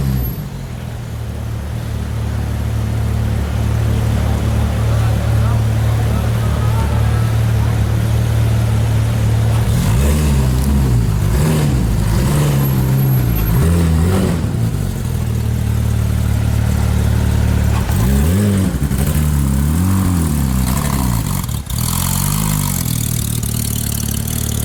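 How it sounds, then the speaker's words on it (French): A pink Porsche GT3 sports car idles with a steady low engine note, then gives several short revs in the street at Juan-les-Pins, with a loud, close engine sound throughout. "GT3 rose. Ah, le bruit qu'elle fait celle-là."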